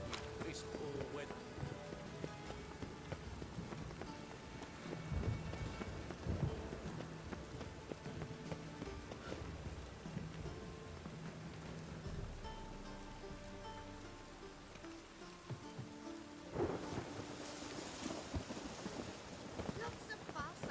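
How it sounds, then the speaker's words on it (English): Steady rain pours across the whole stretch in The Witcher 3, a dense hiss of drops on surfaces, with low rumbles of thunder rolling beneath and louder swells near the middle and end. "Lots of fuss over lots of rain."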